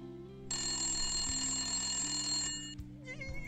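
Intercom ringing in the game Randal's Monday: a steady, loud electronic ring with bright harmonic tones holds for about two seconds, then cuts off, with faint background sound around it.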